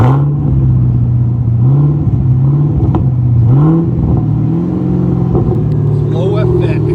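A Chevy Camaro SS with a 6.2L V8 and aftermarket exhaust revs loudly up close, its deep rumble rising and falling in repeated throttle blips, with voices faintly underneath.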